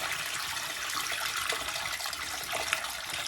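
Wet beads pour into a tank, a steady close rush of trickling and pattering like running water, fairly even throughout with no talking.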